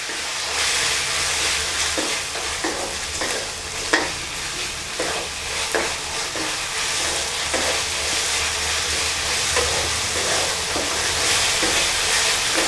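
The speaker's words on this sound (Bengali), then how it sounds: "এবার ভালোভাবে মশলাগুলোকে নেড়েচেড়ে কষিয়ে নিব" Cumin and ginger paste stir-fried in a pan for a beef curry, a continuous hissing sizzle with a regular series of scraping spatula strokes, close and steady throughout, no one talking.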